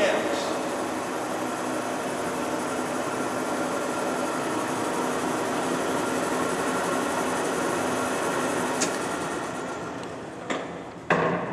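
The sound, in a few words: Century sliding gap bed lathe running at 70 RPM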